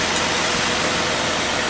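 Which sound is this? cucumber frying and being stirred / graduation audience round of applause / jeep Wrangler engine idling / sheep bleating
jeep Wrangler engine idling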